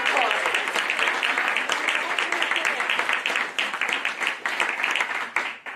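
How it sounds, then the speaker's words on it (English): Audience applause at a Washington event celebrating the American Women Quarters, a steady wash of clapping across the whole stretch with some voices mixed in and fading slightly at the end. "So give her a round of applause."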